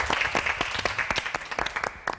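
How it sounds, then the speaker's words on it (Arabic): Young children clap together in a short, uneven burst of applause, a quick run of bright claps at moderate distance lasting about two seconds, with no speech over it. "تريدي تحية كبيرة يصفقوا لك الصغار؟"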